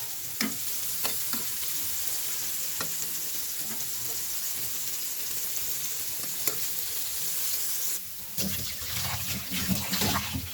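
Sweet pumpkin pieces cook with small shrimp in a pan, giving a constant sizzle and fry with scattered clicks and scrapes of stirring, plus a brief louder burst of activity near the end.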